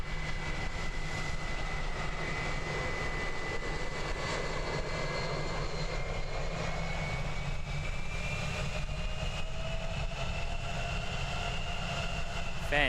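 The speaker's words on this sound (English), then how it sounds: "First arrival of the evening on 20 is our All Blacks A320." An Air New Zealand Airbus A320 in All Blacks livery arriving on runway 20 at Christchurch Airport, a continuous loud jet engine roar with shifting whine tones as it passes, wind buffeting throughout.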